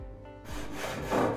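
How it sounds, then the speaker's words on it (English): A hacksaw cuts a sieve bed held on a jig, giving rough back-and-forth rasping strokes up close, irregular and growing louder toward the end, with no talking. "we'll take our hacksaw and start cutting"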